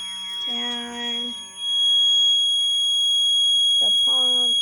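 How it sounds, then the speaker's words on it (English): Electronic buzzer on a school science project underground water pump model, sounding in two harmonic-rich bursts, one early and one near the end, loud and close, with a steady electrical whine throughout. "and the buzzer working, and then there is the water being pumped out"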